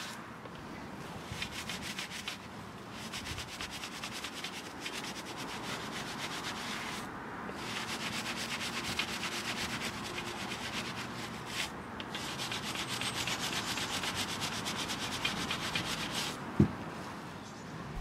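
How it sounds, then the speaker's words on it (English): A bendable Easy Detail wheel brush scrubs behind the spokes of a painted alloy wheel, giving a steady close-up rubbing and swishing that runs continuously with brief pauses and no talk. "the Easy Detail brush can be bent to allow you to access the rears of the spokes"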